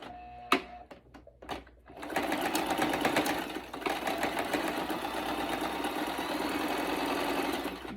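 A few sharp clicks and thumps give way to a sewing machine running steadily up close, its rapid mechanical chatter stitching a second seam along a shalwar.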